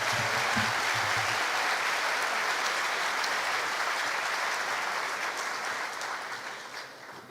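A large crowd at a high school honors night applauds honor graduates and teachers with sustained, dense clapping that holds steady, then gradually thins and fades toward the end.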